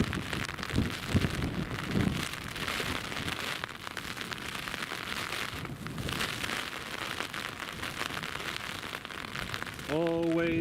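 Torrential rain pours steadily during Storm Ashley at Newcastle Airport, a dense, continuous roar of heavy downpour close by, with a brief tonal sound near the end.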